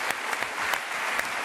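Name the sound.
audience applause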